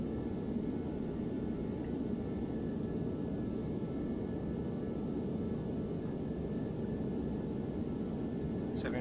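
A ToLiSs A321 airliner lands in the X-Plane 11 flight simulator, giving a steady, low, broad engine and roll-out rumble, moderately loud and continuous, with no distinct individual events.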